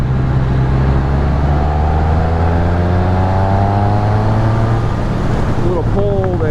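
A 2013 Triumph Speed Triple pulls hard in a higher gear, its engine note rising smoothly and steadily. The sound is loud and close, with wind noise mixed in.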